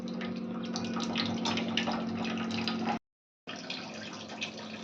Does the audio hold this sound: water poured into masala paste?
yes